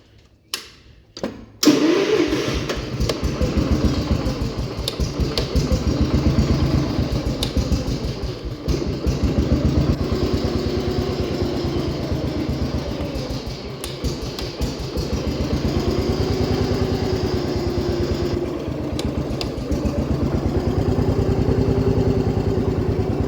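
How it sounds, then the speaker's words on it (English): A 1969 Gravely 432 tractor engine that had run poorly under load cranks with a few quick turns, then catches and runs loud and close with a steady, slightly uneven single-cylinder chug for the rest of the stretch. "So let's get it fired up and see if it'll run better now."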